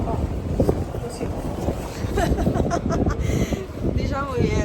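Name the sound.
wind blowing at the seaside in Senigallia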